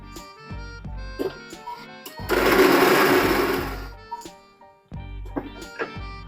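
Mixer grinder blending amboshi (dried raw mango) paste for a Koli-style pomfret curry, a loud steady grinding whir lasting about two seconds amid scattered kitchen clatter and taps before and after.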